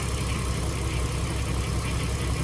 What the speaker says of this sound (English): Now you want to run the engine, make sure this keeps getting filled up